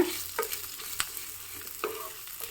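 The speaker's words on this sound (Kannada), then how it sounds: "ಇದನ್ನು ಕೂಡ ಇದ್ರ ಜೊತೆಗೇ ಫ್ರೈ ಮಾಡೋಣ" Chopped onion fries with lentils in a pan for a chutney: a constant soft sizzle broken by several scraping stirs of a spoon against the pan, close and without talk.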